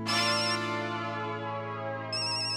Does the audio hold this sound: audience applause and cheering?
no